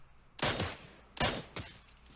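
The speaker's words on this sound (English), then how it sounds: "I'm just suppressive firing right here" Suppressive gunfire in PUBG Mobile, three separate loud bursts of shots spaced about a second apart, each a sharp crack with a short tail, with no talking over them.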